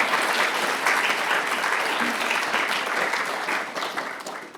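Sustained, loud applause from a lecture audience welcoming a climate scientist to the stage at a public science society lecture, steady throughout and tapering slightly at the end.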